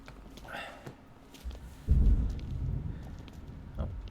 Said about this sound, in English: Thunder is getting pretty bad.